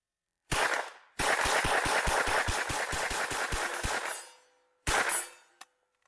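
Bursts of automatic fire from a Beretta MAB 38 submachine gun, a long rapid string of loud, evenly spaced sharp cracks after a short opening burst, then a brief final burst with a clipped last shot, no talking.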